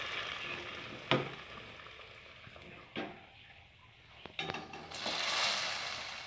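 Pakoras frying in hot oil for Punjabi-style kadhi, a steady close sizzle with a few louder crackling bursts and clatters as pieces are moved or lifted out, no talking.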